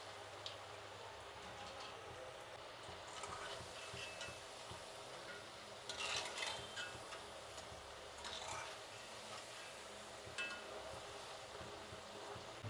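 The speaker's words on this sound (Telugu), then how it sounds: "ఒక 2-3 సార్లు ఇలా తిప్పించి వేయించుకుంటే సరిపోతుంది" Potato kebabs frying in oil and being turned two or three times, a steady soft crackle with scattered ticks and scrapes as pieces are flipped, fairly quiet and close, no talk.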